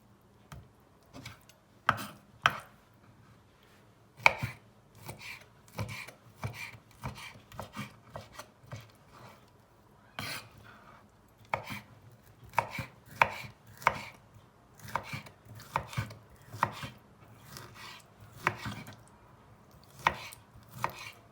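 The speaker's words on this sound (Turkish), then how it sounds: "Kavciğerde zorlandım bayağı doğrarken" A knife chops tough beef liver on a cutting board in irregular bursts of sharp, close taps, pausing now and then between runs.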